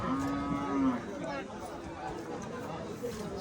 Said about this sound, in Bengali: কাস্টমারকে গরু দেখাচ্ছেন ফারুক ভাই